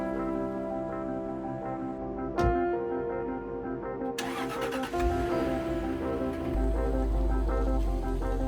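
A Jaguar XK8 V8 engine runs steadily with a low, droning hum, rising with brief surges and a sharper burst of revs around mid-clip as the car pulls away, close and fairly loud throughout with no voices.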